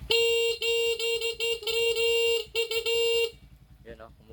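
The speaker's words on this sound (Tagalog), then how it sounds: "Busina." A car horn honks repeatedly in long, loud blasts with brief breaks, then stops, followed by a short muffled noise.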